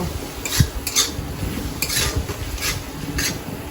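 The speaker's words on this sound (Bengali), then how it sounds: "এই যে সর্ষে বাটা দিয়ে দিলাম" Mustard paste stirred into a pan while cooking pabda fish, with a spoon scraping and clinking against the metal several times over a faint background hum.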